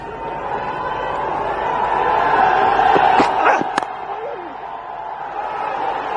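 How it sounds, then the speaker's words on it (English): Crowd noise at a Bangladesh versus South Africa cricket match rises as spectators on the bank react to good fielding, and a commentator speaks over the steady murmur and swell. "Given a lot of applause by the crowd behind him on the bank"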